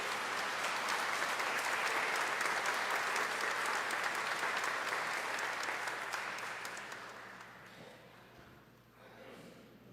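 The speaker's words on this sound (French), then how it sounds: "On applaudit Cristiano et on la ferme." Applause from a church congregation for Cristiano at a parish mass, steady dense clapping filling the room for several seconds before thinning and fading out toward the end.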